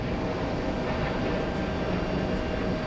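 At JFK airport, an airliner rolls on its takeoff run as a steady, loud broadband engine roar with no speech over it.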